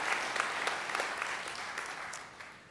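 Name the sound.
applause for the orientation leaders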